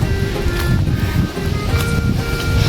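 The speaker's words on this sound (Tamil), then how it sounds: "இங்கே காற்று சத்தமாக அது செம்மையாக இருக்குப்பா" Loud wind blowing through misty hill country at Mahabaleshwar, a continuous rushing rumble with some faint tonal sounds mixed in the background.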